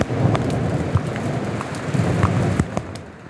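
A late-afternoon thunderstorm with heavy rain hissing steadily on surfaces, close and loud, broken by low rumbling thunder and sharp crackling bursts, with no talking.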